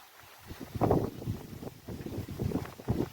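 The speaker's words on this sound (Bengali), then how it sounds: "তাল গাছের নিচে দাঁড়িয়ে তালের পাতার সাথে বাতাসের বাড়ি শনশন আওয়াজ" Gusting wind blows under tal palm trees on a village riverbank in Bangladesh. It comes as uneven, rumbling buffets that swell and fade in several waves, close to the microphone, with a faint airy hiss above.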